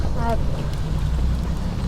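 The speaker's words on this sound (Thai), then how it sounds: "เรือมาแล้วนะครับท่านผู้ชมครับ" A passenger boat arriving on the Khlong Saen Saep canal in the morning, its engine rumble and water wash heard close and steady under wind noise, with a brief horn-like tone near the start.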